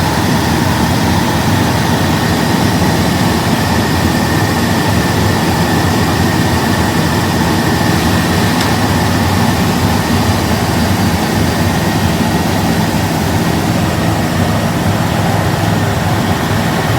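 A Jeep engine runs at a steady, loud idle right after new radiator hoses are fitted, a continuous low rumble with a faint constant whine on top and no voices.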